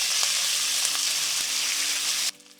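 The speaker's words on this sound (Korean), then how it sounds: "센 불로 볶아주시면 됩니다." Sliced beef brisket stir-frying in a pan over high heat gives off a loud, steady sizzle for a couple of seconds before cutting off abruptly when the heat goes off.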